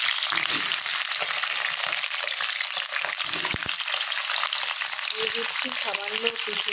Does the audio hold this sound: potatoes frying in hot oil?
yes